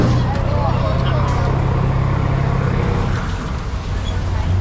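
A Boston amphibious duck boat tour vehicle rolls along the road after leaving the water, with a steady, loud low engine rumble and road noise that continues throughout.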